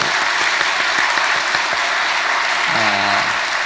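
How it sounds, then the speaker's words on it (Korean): A church congregation gives loud, dense applause in honour of the infant and toddler Sunday school teachers, steady throughout, with a brief voice rising over it near the end. "이분들을 위해서 힘찬 축복의 박수"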